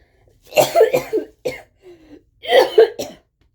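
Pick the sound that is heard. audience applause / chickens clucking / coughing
coughing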